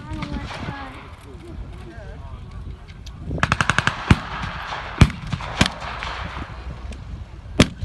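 Gunfire rings out at an outdoor desert-war battle reenactment, with rapid machine-gun bursts and loud single shots spread across the scene, while someone talks over it.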